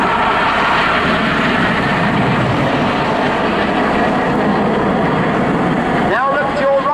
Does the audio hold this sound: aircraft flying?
yes